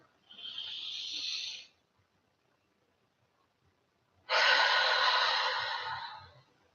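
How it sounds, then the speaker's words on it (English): Two long, slow breaths during guided meditation: a steady airy inhale of about a second and a half, a pause, then a fuller, louder exhale lasting over two seconds, close and alone. "take a big deep breath."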